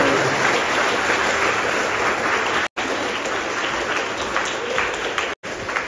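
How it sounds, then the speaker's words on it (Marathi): Steady, loud applause from a school audience at a chess competition, greeting a chess coach as he takes the stage; the dense clapping holds evenly throughout, broken by two brief gaps. "सगळ्यांनी जोरदार टाळ्या वाजवून त्यांचं स्वागत करायचं"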